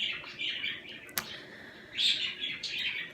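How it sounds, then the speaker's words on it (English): Pet birds kept indoors chirp and tweet in a steady stream of high, bright calls, fairly close and moderately loud, with a sharp click partway through. "But if you wanted to see the birdies that keep chirping, chirp, chirp, chirp."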